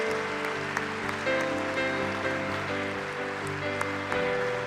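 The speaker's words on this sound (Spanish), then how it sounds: "Un fuerte aplauso para ellos" A church congregation applauds visiting guests during a service, a steady wash of clapping lasting several seconds over sustained keyboard or organ chords.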